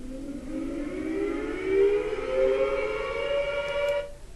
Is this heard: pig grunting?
no